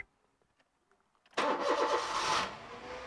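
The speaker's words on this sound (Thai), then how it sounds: "แล้วก็จะสตาร์ทเครื่องนะสตาร์ทเครื่องไฟมันจะดับแล้วก็จะติดใหม่" A Honda City car engine cranks and catches abruptly after a near-silent pause with faint clicks, then settles into a loud, steady idle close by.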